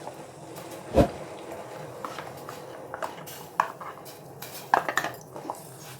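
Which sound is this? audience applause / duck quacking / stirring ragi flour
stirring ragi flour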